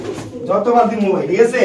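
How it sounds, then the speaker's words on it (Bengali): A Spanish pigeon held in someone's hand coos softly in a low, throaty murmur that runs unbroken for under two seconds, close to the listener. "হাতে একটা কবুতর আছে"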